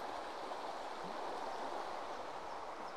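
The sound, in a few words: River Nidd flowing, fed by the beck from Thornthwaite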